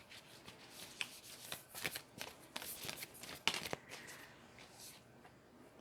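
Tarot cards being shuffled by hand during a reading, with a soft, continuous papery riffling and flicking and a few sharper snaps, close and fairly quiet with no talking.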